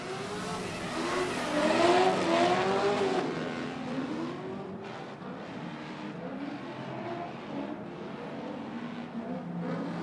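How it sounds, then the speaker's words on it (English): Two V8 drift cars, a Chevy and a Lexus Toyota, screaming on a track in a competition heat, loud high-revving engine wails that peak early, then a sustained roar with tire noise as they power along. "Listen to those V8s scream. We got 16 cylinders on track."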